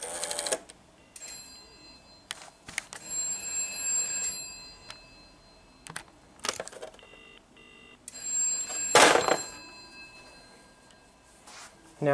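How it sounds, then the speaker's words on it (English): A GPO 746 telephone in a bedroom rings in repeated short bursts of bell tone separated by pauses, moderately close, with some background clatter and a sharp burst near the end. "This time I dialed the phone in my bedroom."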